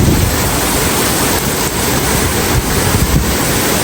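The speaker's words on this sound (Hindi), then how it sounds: "बढ़िया बारिश हो गई" Heavy rain pouring down, a loud, dense and continuous broadband roar like rushing water or wind, steady throughout with no voices.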